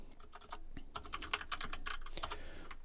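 Close keystrokes clatter on a computer keyboard while code is typed, an irregular run of quick clicks with short pauses between them and no voices.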